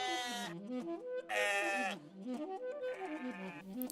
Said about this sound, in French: les petits moutons qui bêlent